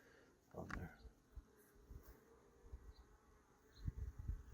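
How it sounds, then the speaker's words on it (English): Bees buzz during a beehive check, a faint, thin drone that persists in the background while a few louder handling bumps and knocks come close by. "Is there a bee on my head or is that a fly?"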